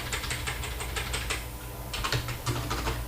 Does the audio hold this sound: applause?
no